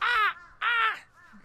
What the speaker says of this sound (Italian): Corvi.